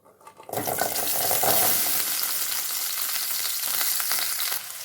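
Shallots hit hot sesame oil with a loud, steady sizzle that jumps up after a short quiet start and crackles on densely, close by, for a few seconds with no talk.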